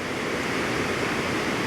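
Reekie Linn waterfall pouring steadily over rocks, a dense, continuous broadband rush heard close and loud with no pauses or voices.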